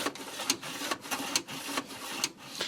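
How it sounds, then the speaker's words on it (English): Ash being scraped out of a charcoal grill through its opened intake: repeated dry rasping scrapes in a steady rhythm, roughly every half second, close and fairly quiet, with no talk. "I'm going to get some ash out of here."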